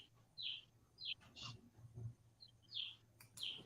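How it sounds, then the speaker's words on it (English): Small birds chirp outdoors in a series of short, bright tweets spaced through the moment, faint and somewhat distant over a low background hum. "I'm loving the sound of the birds,"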